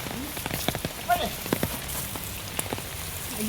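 Sudden rain falling outdoors near a house, a steady faint patter with scattered drops ticking on surfaces, heard alongside brief bits of speech.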